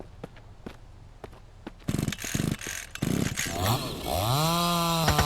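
Chainsaw in the survival game Mist Survival, with a few sharp knocks before the motor sputters, revs in rough bursts, then settles into a steady loud whine.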